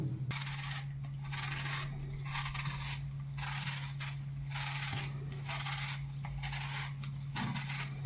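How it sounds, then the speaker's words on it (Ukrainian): Apples being peeled and cored with a knife for an apple pie, giving a steady scraping and rubbing texture in short repeated strokes, close up and continuous, over a low steady hum. "Почистимо шкірку і знімемо середину."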